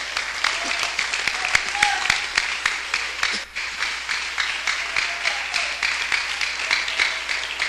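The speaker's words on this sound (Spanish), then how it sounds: "Brinde un aplauso a Dios" A church congregation claps for God during a Spanish-language sermon, a continuous, fairly dense round of applause with rhythmic pulses. A voice briefly comes through partway in.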